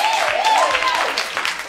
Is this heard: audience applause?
yes